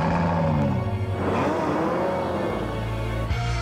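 A Ferrari F12 Berlinetta supercar engine roars and revs steadily, loud and close, with harmonic tones rising and falling as it accelerates.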